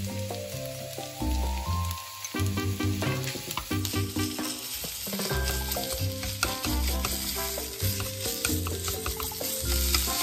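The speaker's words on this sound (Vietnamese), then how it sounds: "để cho phần nguyên liệu này thật là khô thì chúng ta xào ở trên nhiệt độ cao" Meat filling for savory fried pastries stir-fries over the highest heat, a loud continuous sizzle broken by frequent scraping and tossing of a spatula in the pan.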